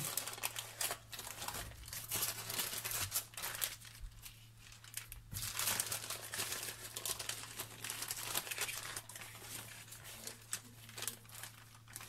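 Paper crinkling and rustling as it is folded around a no-bake mandarin fruit cake; soft, close, irregular crackles continue throughout at low volume.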